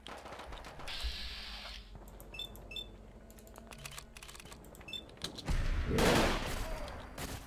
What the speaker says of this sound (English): Oh, he's got a minigun.